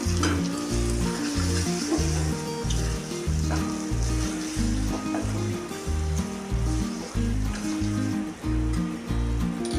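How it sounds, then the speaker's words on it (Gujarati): Masala sizzles loudly as it is mixed into a restaurant-style paneer gravy, a dense continuous hiss with stirring, set against a low, rhythmic, music-like backing. "હવે મસાલાને આપણે ગ્રેવીમાં એડ કરી દઈશું. બરાબર મિક્સ કરી લઈશું."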